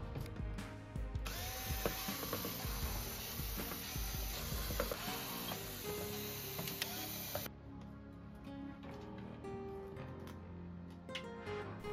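Close, continuous ratcheting and whirring of a screwdriver as screws are removed from the PCB boards inside a JBL PartyBox 310 speaker during a teardown, with small clicks and handling sounds throughout.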